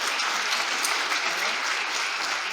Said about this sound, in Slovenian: Tako da en aplavz v imenu, verjamem, vseh nas za to.